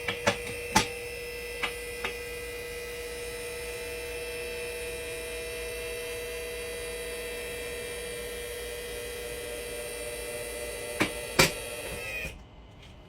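Hydraulic car lift raising a vehicle, a steady electric motor hum with a constant tonal whine running for about twelve seconds, marked by a few sharp clicks at the start and end before it cuts off.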